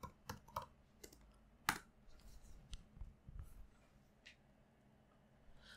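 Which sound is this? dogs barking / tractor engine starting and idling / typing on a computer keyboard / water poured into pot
typing on a computer keyboard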